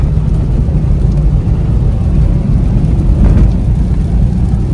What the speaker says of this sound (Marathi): पूर्ण ढग खाली आलेत, पाऊस पडतोय.